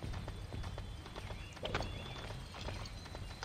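Steady clip-clop of horse hooves walking at an even rhythm in the Barbie Horses Adventure riding-academy video game, clear and continuous with no talk over it.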